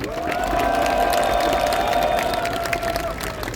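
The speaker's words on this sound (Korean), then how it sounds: "뜨거운 감사의 고마움의 박수를 좀 보내주면 고맙겠습니다" Crowd at a Daejeon citizens' rally cheering and applauding loudly and steadily, a sustained outdoor roar with a tonal shout or whistle running through it.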